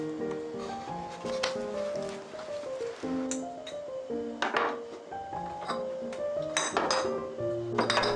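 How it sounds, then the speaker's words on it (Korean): Glass storage containers clink and knock against one another and against shelf wood while being set upright in a kitchen pantry, a run of bright, close chinks and taps at uneven intervals with no talk. "자주 많이 쓰는 유리 용기들도 잘 보이게 세워서 보관합니다."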